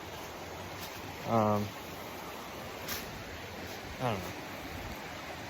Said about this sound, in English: Now we are down by the creek at the campsite.